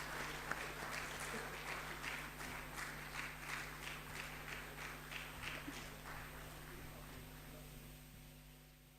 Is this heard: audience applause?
yes